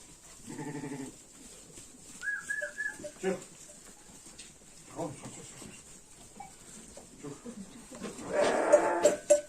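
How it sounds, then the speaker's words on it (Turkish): Sheep and lambs bleat a few times nearby, short wavering calls scattered among people talking in Turkish and general barnyard noise. "Kuzulu koyunlar burada."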